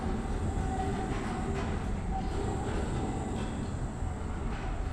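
A tram from the video game Abiotic Factor rolls in with a steady rumbling, rattling rail noise that stays even and fairly loud for the whole stretch, no voices.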